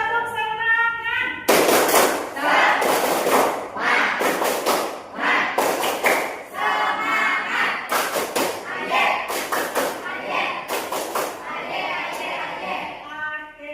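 A classroom of pupils performs the tepuk semangat clapping chant, with sharp, loud hand claps in rhythmic groups punctuating their chanted voices throughout.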